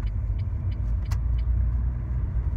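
A car accelerating away from a roundabout with a little gas, a loud close engine rumble holding steady throughout, with a few light ticks and clicks over it.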